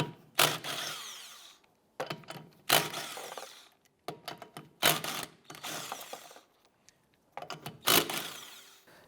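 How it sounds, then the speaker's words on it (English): Lug nuts being removed from a 2001-2005 Honda Civic rear wheel with a 19mm socket on a power tool, heard as four loud, separate bursts of whirring and rattling about two seconds apart, with quieter clinks between them. "We're going to go ahead and remove the lug nuts."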